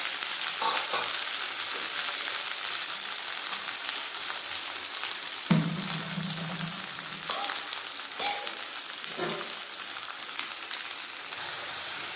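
Spice paste ground on a stone slab is added to onions frying in a pan. A continuous sizzle swells into a louder hiss as the paste goes in, followed by intermittent stirring scrapes, with no voices.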